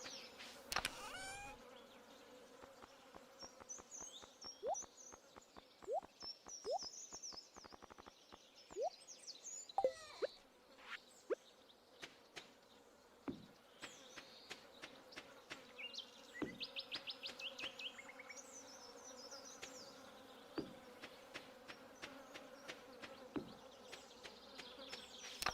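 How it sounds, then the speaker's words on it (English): Flies buzz around near and far in a quiet outdoor garden, their faint wavering drones weaving in and out alongside scattered small clicks and taps. "You can hear the flies buzzing around."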